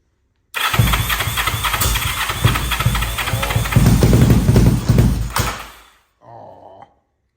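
Custom-built Kraken minibike with full suspension, jack shaft and paddle tire cranks and fires up after being refuelled, its small engine running loud and rough for several seconds before cutting out, then briefly sputtering again.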